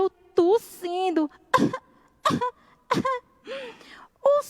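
A voice imitates coughing in a series of short, separate bursts, some with a wheezy, strained tone, spread over a few seconds with pauses between.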